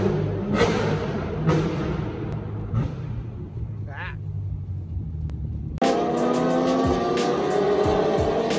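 Chevrolet Corvette engines rumble and rev in short bursts at a Corvette gathering at Circuit of the Americas, then a louder engine roar takes over near the end, with voices talking underneath.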